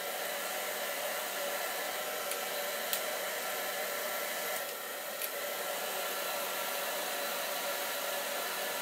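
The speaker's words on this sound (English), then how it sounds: "Hair dryer is an amazing thing." Hair dryer blowing steadily and loudly at close range with a constant broadband whoosh, a few faint clicks partway through, no voices.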